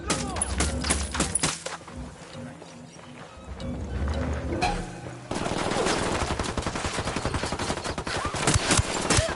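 Rapid bursts of automatic gunfire crackle through a Ghost Recon Wildlands firefight, dense overlapping shots with a brief lull in the middle, then heavier continuous firing, loud and close with faint voices underneath.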